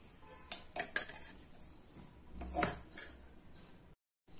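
A cooking pan being set down and handled before ghee is heated for tempering a Tamil toor dal tomato dish, with a few distinct metallic clinks and knocks over a quiet kitchen background, no voices.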